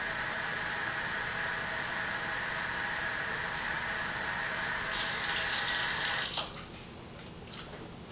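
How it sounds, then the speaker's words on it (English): Tap water from a faucet filling a drinking water sample container, a steady close hiss of running water that cuts off partway through, leaving faint room noise and a small clink. "Collect the sample within 1 minute of opening the faucet."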